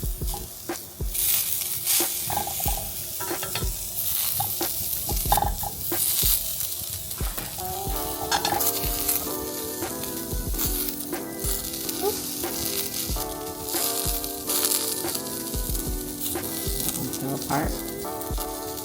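Falafel bites sizzling in oil in a frying pan after being flipped, a steady crackling fry punctuated by scraping and clinking of a utensil against the pan, with a brief faint voice.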